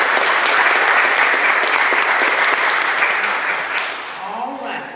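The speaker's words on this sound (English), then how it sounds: "So let's just give them a round of applause." A church congregation applauds at a Methodist service, dense steady clapping from a large crowd that stays full for several seconds and then tapers off slightly toward the end.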